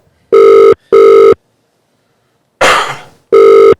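Loud electronic phone ringback tones in evenly spaced pulses, two then one, interrupted by a harsh cough between them.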